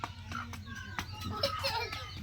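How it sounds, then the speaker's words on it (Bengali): Chicks cheep in thin, high peeps while chickens cluck nearby, with short scattered calls over a low background rumble and a sharp knock partway through. "বাইরে আজকে আমি মুরগির বাচ্চা দিছি।"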